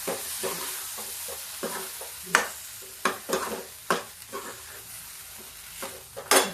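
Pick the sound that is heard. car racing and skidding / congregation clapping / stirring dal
stirring dal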